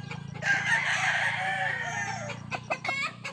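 A Boston Millionaire gamefowl rooster crows once, loud and close, in a long drawn-out call followed by a few short clucks.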